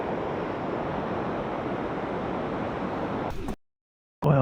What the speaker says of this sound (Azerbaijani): Görün nə qədər burada şəlalə var.